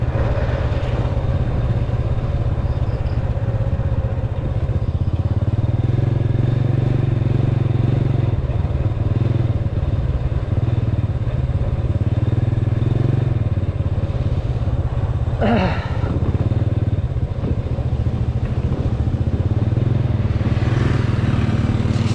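A small motorcycle engine drones steadily and close by for the whole stretch while riding along a road, with a brief clattering rattle midway and no talk.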